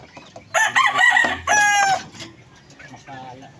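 A gamecock rooster crows close by, a loud strained call in two bursts, followed by fainter clucking and soft background noise.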